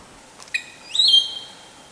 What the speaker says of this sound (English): one eccollectus teases us with its calls high up in the canopy